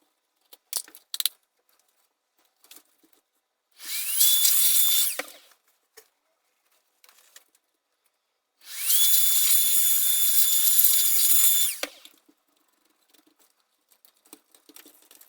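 Two long bursts of a small electric screwdriver whining as it backs out screws from the plastic case of a 2000 Philips AJ3140 clock radio, each burst a few seconds long with rising pitch at the start, separated by quiet handling clicks.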